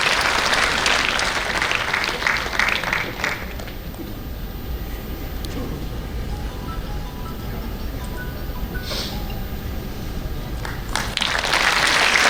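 Sustained audience applause at a corporate award ceremony runs continuously, swelling at the start and again toward the end, with a few sharper individual claps standing out.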